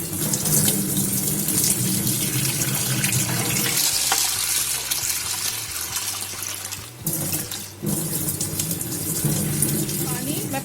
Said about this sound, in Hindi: एक बाउल में इसको ट्रांसफर करके अच्छे से वॉश कर लेंगे